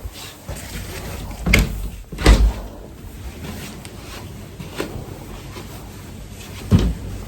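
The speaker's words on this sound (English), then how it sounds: "We use the other door to shovel around this screen door." A screen door is opened and shut during a blizzard. Dull thumps and rattles, two close together and another a few seconds later, sound through a steady roar of wind.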